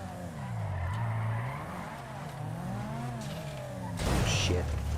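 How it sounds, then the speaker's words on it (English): A car driving up in the Redline RP video game, with a fluctuating engine hum and tire noise that swells to a louder burst at the end, while a person talks over it. "I think he's already driving up there. I think I hear his car."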